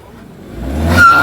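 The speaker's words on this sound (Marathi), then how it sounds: "गाईज गाडी फसलेली आहे, आम्ही ती आता काढतोय." A car stuck in the ground revs its engine, the sound building steadily into a loud, strained roar over about a second with no voices.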